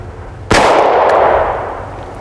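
A New England Firearms R73 revolver fires a single .32 H&R Magnum round, a loud, close, sharp crack that rings and decays slowly over the following second and a half.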